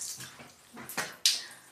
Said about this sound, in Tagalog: nagbabanlaw na tayo sa shower namin